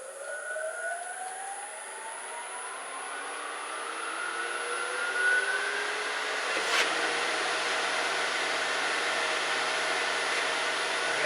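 A wood lathe spins a bowl up to almost 1,000 RPM, a steady whirring drone with tones rising as it speeds up, continuous and close, with no talking.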